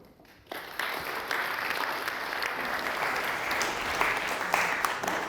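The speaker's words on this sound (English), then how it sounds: "It's very rare to get to be applauded before speaking" A lecture audience breaks into steady, full applause after a short quiet moment, a dense wash of many hands clapping at once that holds evenly to the end.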